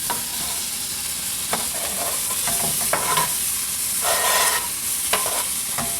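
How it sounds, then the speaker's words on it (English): Onions sizzle in hot olive oil in a pot, a constant bright frying hiss with occasional scrapes and stirring clicks scattered across it. "The first thing I'm going to add are my onions."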